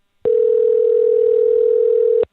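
A telephone dial tone sounds while a call is being placed, a single loud steady pure tone that starts abruptly, holds for about two seconds and cuts off cleanly.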